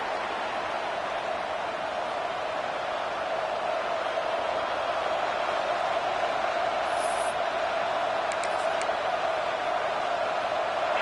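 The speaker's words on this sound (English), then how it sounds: "This crowd ready to make its presence known." Stadium crowd in the college football video game NCAA 26, a dense, steady roar of massed voices that stays loud and even throughout, with no distinct individual sounds standing out.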